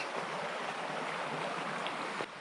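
Melendis stream rushing steadily through Ihlara Valley, a broad, continuous wash of flowing water with no break or voice.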